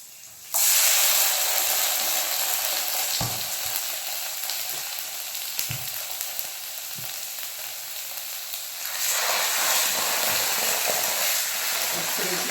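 Chicken pieces go onto a hot tawa pan and hit it with a sudden loud sizzle. A steady, close frying hiss then continues and swells again toward the end.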